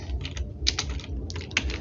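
A computer keyboard is typed on and a shift key pressed while coding HTML in Visual Studio Code, producing a quick run of close, crisp clicking keystrokes in an irregular rhythm, with no talking.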